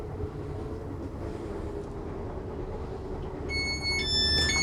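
An LNER train approaching York, a steady low rumble of the moving carriage heard from inside, swelling slightly louder toward the end, with a faint tonal whine joining late.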